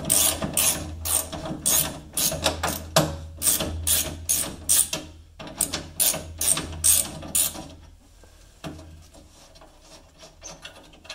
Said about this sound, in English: All right, so let's get these bolts off.